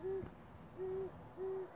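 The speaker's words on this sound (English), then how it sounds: "I'm trying not to scare this owl off" An owl hoots at night, three steady, low, even notes about two-thirds of a second apart, clear and fairly close against quiet surroundings.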